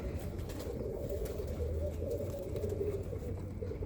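Birmingham Roller pigeons cooing softly in a loft, low repeated coos over a constant background hum, with faint rustling and wing movement.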